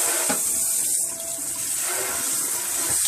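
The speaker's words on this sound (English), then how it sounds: "hot tap water." Hot tap water runs steadily into a sink, a continuous hissing splash with slight changes in flow.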